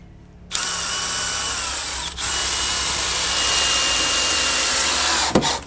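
A power driver runs steadily, driving 2.5-inch screws into wood while staging horses are built in a boatyard. The close, loud whir runs almost continuously with two brief pauses.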